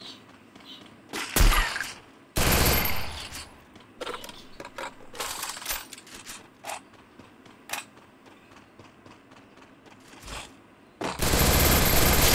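Gunfire from a ranked-mode shooter game crackles in short automatic bursts and single shots, some loud and close, others fainter, with mechanical clicks between them.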